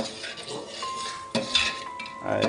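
A spoon scrapes and clinks against a pot while a thick mixture of ghee, butter, sugar and honey is stirred, with a faint sizzle underneath and a few sharper metallic knocks.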